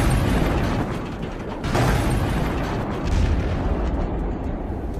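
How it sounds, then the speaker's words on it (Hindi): US air strikes hit Tehran, and a series of explosions rolls out as a continuous distant rumble with swelling booms, steady and heavy, with no voices over it. "एक के बाद एक कई धमाके होने से तेहरान में बड़े पैमाने पर बिजली गुल हो"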